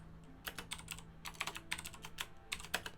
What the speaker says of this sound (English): I will type it out right now.